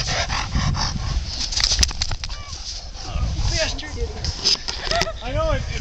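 Outdoors in snow during snowboarding in the country, a dog barks several times under excited family voices and wind.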